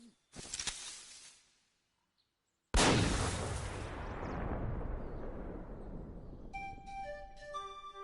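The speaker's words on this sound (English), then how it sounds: "And now there's another gunshot." Gunshots in the video game Kingdom Hearts: a short crack, then silence, then a loud blast with a long rumbling decay, followed by bright chiming tones.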